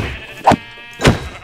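Sheep bleating in the Minecraft video game: two short, close, fairly loud bleats about half a second apart, with no talk.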